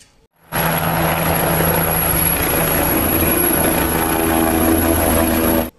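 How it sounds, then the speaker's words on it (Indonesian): A toy helicopter gives off a steady, loud mechanical whir with a buzzing motor tone. It starts after a brief silence and runs evenly for about five seconds before cutting off abruptly. "Ini adalah helikopter."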